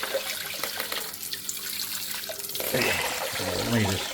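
A Hydor aquarium filter pushing water through a spray bar gives a hissing, splashing gush of flowing water. It starts moderate and grows louder and churning in the second half, and a voice may be faintly heard.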